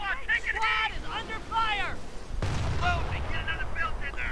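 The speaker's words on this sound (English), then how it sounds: "Nebelwerfer was trying to do some damage." Nebelwerfer rocket artillery fires in a video game, a sudden broadband blast about halfway through that rumbles on behind continuous commentary.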